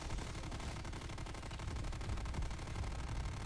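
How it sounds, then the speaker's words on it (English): Rapid weapon fire in Call of Duty: Black Ops Cold War Dead Ops Arcade, a dense, continuous burst of thudding shots with explosive low-end booms filling the whole stretch at steady loudness. "It's a grenade launcher."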